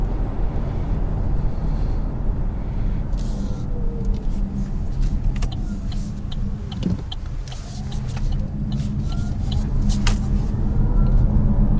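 An Opel Mokka-e electric car climbing a hill in sport mode, heard from inside the cabin: a steady low road and tyre rumble with faint whining motor tones, brief clicks and rattles, growing slightly louder toward the end.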